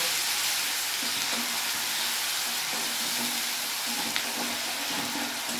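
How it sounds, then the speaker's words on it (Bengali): Onion paste frying in a pan for a fish and fennel dish: an even, continuous sizzle with a soft hiss, close and moderately quiet, with a faint clink partway through. "এই পেঁয়াজটা আমি এখানে একটু ভেজে নেব।"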